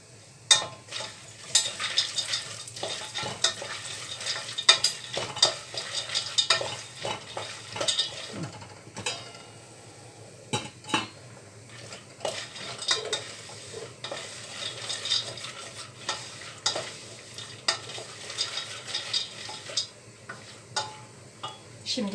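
Dry semolina and peanuts are stirred and scraped around a hot pan while roasting for semolina halva, producing irregular clicks and rustles over a faint background sizzle.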